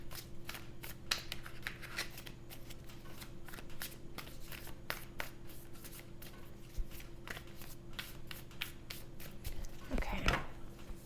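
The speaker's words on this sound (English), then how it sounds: "I also want to draw from the Light Seers Tarot again, just to get a little more insight about the weekend" A deck of Light Seers Tarot cards is shuffled by hand, a steady run of soft riffling card flicks close up, ending with a brief louder burst of handling.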